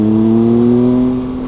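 A motorbike accelerating up close, its engine holding a strong, steady tone for about a second before easing off slightly, with no talk over it.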